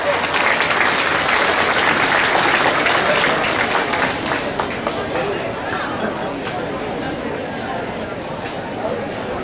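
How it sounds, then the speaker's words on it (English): Sustained applause from a crowd at a county fair junior market hog show, a dense, steady wash of clapping that holds loud throughout and eases slightly toward the end, with faint crowd murmur beneath. "let's give those young people a good round of applause"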